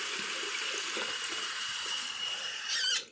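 Cold water runs steadily from a tap in a constant close hiss that shifts in tone near the end, then cuts off abruptly.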